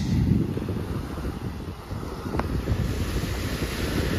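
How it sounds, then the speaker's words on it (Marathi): Waves wash onto a sandy Konkan beach in a continuous close roar, with strong wind buffeting the microphone and no voices. "This is a Konkan beach."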